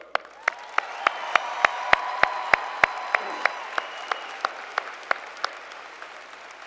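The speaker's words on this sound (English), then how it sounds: "Please join me again in another round of applause for Joe." A commencement ceremony audience applauds after a performance, a soft wash of crowd clapping that swells and then thins, cut through by a regular series of sharp, distinct claps from one nearby person.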